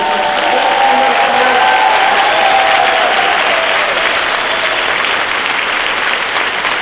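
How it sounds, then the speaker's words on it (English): An audience at an elementary school band concert for grades four and five applauds warmly, with dense sustained clapping from a crowd, close and loud, gradually easing toward the end. "let's save our biggest round of applause for our graduating fifth grade members."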